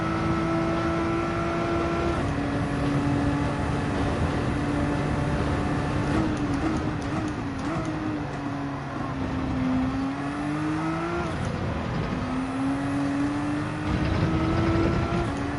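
Race car engines roaring during a race in Gran Turismo 7 while chasing a Porsche 911 in its slipstream, a steady droning whine that rises and dips in pitch with gear changes, continuous and close.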